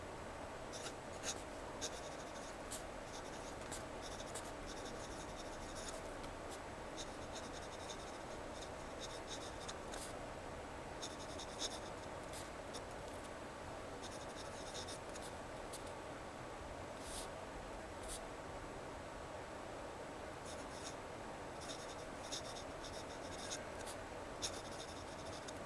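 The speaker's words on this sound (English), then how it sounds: "let's just give you a quick writing sample. This is basic standard notebook paper, 70 grams per square meter" Duke 209 fountain pen nib writing on standard 70 gsm notebook paper, a faint, continuous scratchy rustle with short repeated strokes and brief pauses, close and quiet, with no talk.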